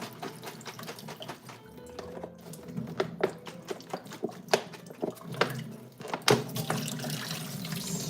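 Basil rinsed by shaking it in a container of water: irregular sloshes and splashes with small drips, fairly quiet and close, with no talking.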